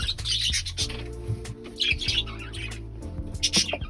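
Pet budgies in a cage chirp and tweet in repeated bright bursts over a steady low hum, fairly close, with movement sounds around them.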